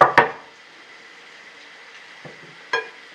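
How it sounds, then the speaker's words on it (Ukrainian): A knife slicing potatoes into rings on a board makes a few sharp, close cuts and knocks, two quick at the start and two more spaced near the end, with quiet between. "нарізаємо кільцями картоплю"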